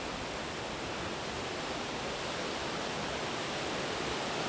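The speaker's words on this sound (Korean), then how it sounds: "빅토리아 폭포가 위치한 잠베지 강" The Zambezi River near Victoria Falls gives a steady, dense roar of rushing water, even and unbroken throughout, with no other sounds.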